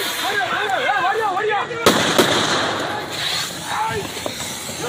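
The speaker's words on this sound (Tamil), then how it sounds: "அதை காட்டுக்குள் விரட்ட பொதுமக்களும் வனத்துறையினரும் பட்டாசுகளை வெடித்தனர்." Firecrackers set off by villagers and forest staff to drive a wild elephant back into the forest: loud sharp bangs, one big burst near the middle, heard under ongoing voices and crowd noise.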